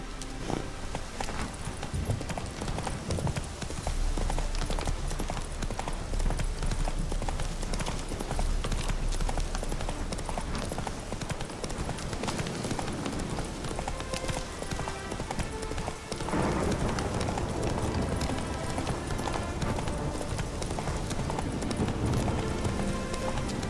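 Horse hooves clip-clop steadily in Witcher 3, a continuous trotting rhythm that runs throughout, close and prominent over a dense game soundscape.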